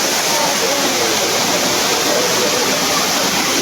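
Hathni Mata waterfall in hilly country roars as a loud, unbroken wash of falling water, close and even from start to finish, and a voice can just be made out beneath it.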